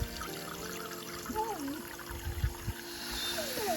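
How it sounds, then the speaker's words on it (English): Water poured into a seed-starting soil mix outdoors for soil blocking, a faint trickling pour with soft splashy bursts, quiet and close with light background noise. "Now I'm just adding water to moisten everything up"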